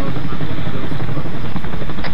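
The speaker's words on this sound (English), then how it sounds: "I've got eyes on a helicopter that's doing tailspins to our southwest" Helicopter rotor and engine roar in an Arma military game, a loud steady broadband drone throughout with a faint voice briefly underneath.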